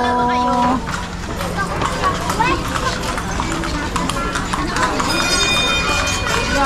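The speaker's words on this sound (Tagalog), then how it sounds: "uy, ang kabayo! Ang kabayo!" Hooves of a horse pulling a kalesa clop steadily along Crisologo Street in Vigan at night, in a rhythmic trot under busy street noise and people talking nearby.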